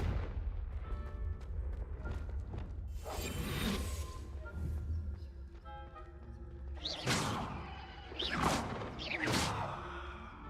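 A Confringo explosive spell blast in the video game Hogwarts Legacy, heard as loud, bright bursts with whooshing crackle over a dense rumbling game soundscape, with several sharp blasts toward the end.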